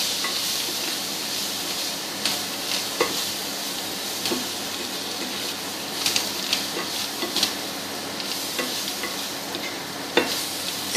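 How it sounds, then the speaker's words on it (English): Raw mango pieces being stirred in hot oil with masalas, chilies and coriander in a pan, a steady soft sizzle and hiss running throughout with intermittent scraping clicks of the spoon against the pan. "Stir it properly so that the pieces catch the oil along with the masalas."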